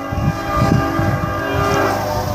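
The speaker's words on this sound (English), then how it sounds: "the wind picks up and the train comes" A train passing outdoors on a windy day, a steady low rumbling roar with a sustained horn-like tone, heard from a distance behind trees.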